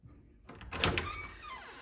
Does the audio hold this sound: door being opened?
yes